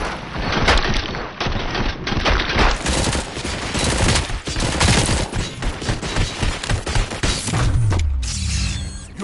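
Sustained heavy gunfire in a RoboCop game, dense rapid automatic bursts mixed with booming impacts and mechanical clatter, loud and continuous for several seconds before trailing off into a descending mechanical whine.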